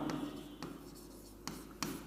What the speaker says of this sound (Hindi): उसके बाद अगला पॉइंट लिखेंगे